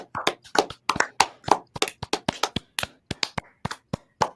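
Hands clapping in a steady, fairly quick rhythm of about two dozen sharp claps, close and dry, with no talking.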